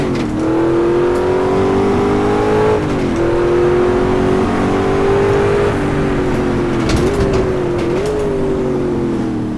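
The American V8 in an Ultima GTR with an H-pattern gearbox revs loudly and close up, holding a strong steady drone that climbs and dips through several throttle blips, with no voices.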